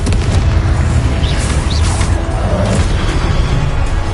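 Loud, continuous booming spell blasts from the PS5 game Hogwarts Legacy, fire and explosion effects rumbling heavily with dense low-end crackle throughout.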